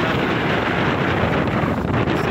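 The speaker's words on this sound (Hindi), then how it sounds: "हवा काफ़ी तेज़ है, चूँकि इस वजह से शायद डिस्टर्ब कर रही है लहरें।" Strong wind roars over a microphone at a Karachi seashore with waves beyond, a dense, unbroken blustery rush with a faint surf wash beneath and no talk.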